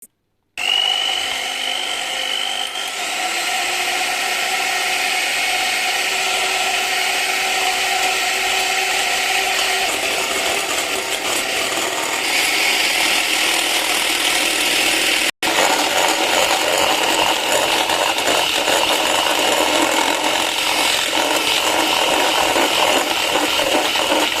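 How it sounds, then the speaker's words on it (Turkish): An electric hand mixer whisks eggs into orange-peel crinkle cookie dough, giving a steady, loud whirring drone with a brief cut partway through and no talking. "Mikserden yardım alarak çırpıyoruz."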